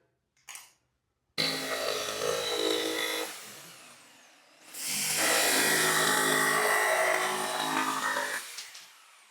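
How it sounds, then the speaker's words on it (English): A jigsaw buzzes loudly through wood in two long cutting passes separated by a brief lull, close up, with no talking. "so now we're going to cut this out using a jigsaw"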